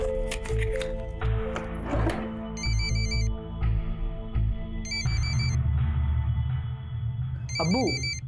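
An incoming call makes a phone ring in three short, evenly spaced electronic bursts of rapidly warbling tones, mixed with soft handling clatter and a low background hum.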